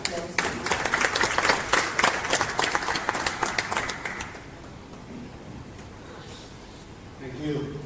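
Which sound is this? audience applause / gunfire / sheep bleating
audience applause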